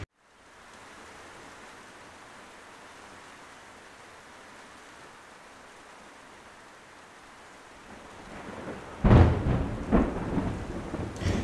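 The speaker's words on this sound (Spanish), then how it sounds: "aquí sí está ya lloviendo" Steady rain hisses for several seconds, then a loud crack of thunder breaks in and rumbles on unevenly to the end, with no voices.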